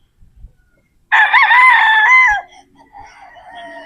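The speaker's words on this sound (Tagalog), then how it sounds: "Pero gwapong manok ito mga bossing oh." A bulik gold stag, a gamefowl rooster, gives one loud, close crow of about a second and a half after a short quiet gap, then softer clucking and bird calls follow.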